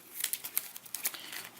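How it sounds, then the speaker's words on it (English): Playing cards from the Gloomhaven board game being shuffled, a quick run of soft, crisp riffling rustles and light slaps close by, fairly faint with no voices. "where you shuffle the cards"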